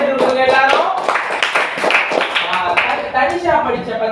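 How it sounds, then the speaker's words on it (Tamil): A classroom of students gives a burst of hearty applause for a classmate, dense overlapping claps continuing throughout with voices mixed in. "ஒரு பலத்த கைத்தட்டல் கொடுங்க எல்லாரும்"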